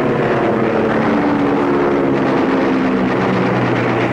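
Enemy warplanes over WWII Burma make a steady, loud droning engine roar that holds at even strength throughout, with wind-like noise and no voices.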